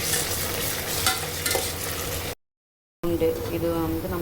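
Biryani ingredients stirred in a pan for a home-style midnight biryani, giving steady scraping and sizzling with a voice talking over part of it, cut by a brief silent gap before the stirring resumes.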